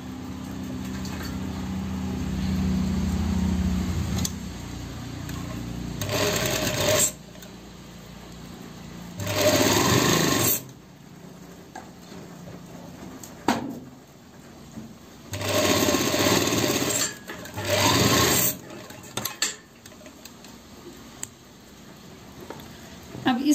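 A sewing machine stitches a pocket onto a belt shalwar in several short bursts of fast rattling, each lasting one to two seconds, separated by quieter pauses where fabric is handled and a voice speaks.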